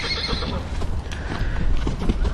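A ridden horse moves with close, loud clip-clopping hooves in a quick, uneven rhythm, along with a brief whinny, during bucking-horse training.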